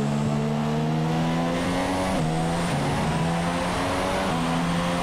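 Formula 1 race car engines screaming along the straights at Sepang in F1 2017: a continuous, loud, high-pitched drone that rises and shifts in pitch as the cars accelerate and change gear, with no talk.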